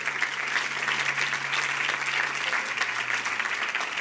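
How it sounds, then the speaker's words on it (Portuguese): Church congregation applauding during a sermon, a continuous dense wash of clapping filling the room at steady volume, with a low organ-like hum sustained beneath. "Você pode aplaudir Jesus aí"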